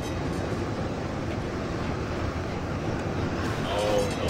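Train rushing past in the video game Necromunda: Hired Gun, a continuous broadband rumbling roar at moderate level that swells slightly toward the end, with a brief tonal squeal near the close.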